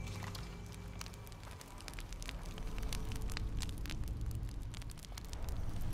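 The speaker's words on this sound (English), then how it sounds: "Right, so I've activated that campfire." Campfire in Shadow of the Tomb Raider crackles and pops continuously, sharp irregular snaps scattered over a dense, steady hiss, fairly close with no talking.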